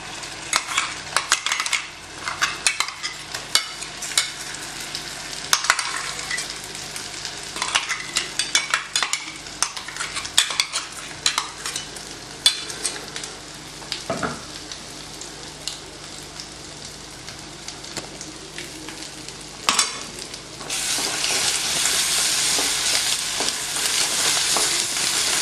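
Onion masala for onion chutney sizzles and fries loudly in hot tempering oil, with a spoon stirring and scraping the pan throughout; the hiss swells stronger near the end.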